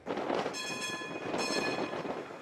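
A Ukrainian tram running through The Hague gives a steady close rumble, with two bursts of high, tonal whining squeal from the wheels or horn over the top. No voices.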